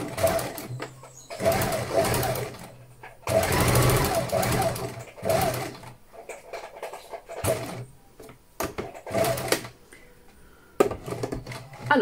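A sewing machine stitches a buttonhole with a tight, dense satin stitch, running in several short bursts of rapid mechanical whirring separated by quiet pauses.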